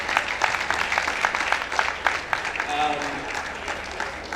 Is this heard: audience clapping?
yes